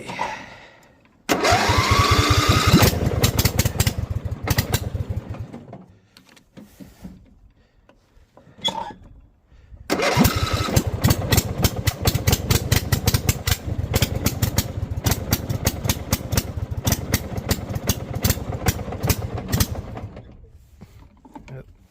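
A small snow mower engine runs while its idle is being adjusted. It sputters and rattles loudly, drops to near quiet, then restarts into a fast, steady mechanical chatter.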